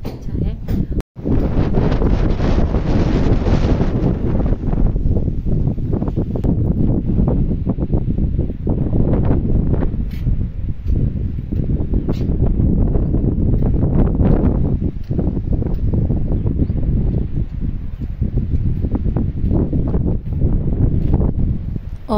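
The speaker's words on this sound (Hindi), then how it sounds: "बहुत अच्छी हवा चल रही है" Wind blows outdoors in a hilly Himachal hometown under dark gathering clouds, rumbling and buffeting the microphone loudly and continuously throughout, with one brief cut near the start.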